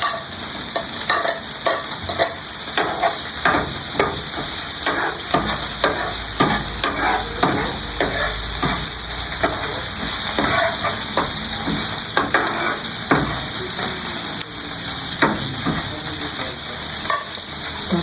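Garlic sautéing in a hot pan with steady sizzling and frying, punctuated by repeated scraping stirs of a utensil against the pan, close and continuous throughout without talk.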